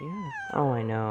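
A house cat meows once, a short rising-falling cry, close by beneath brief casual talk.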